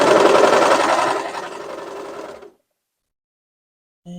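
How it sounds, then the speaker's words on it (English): A sewing machine runs a zigzag stitch along a raw fabric edge with a steady, close mechanical whir. The whir winds down and stops around the middle, leaving silence before a brief clunk at the end. "drop the presser foot and then just stitch."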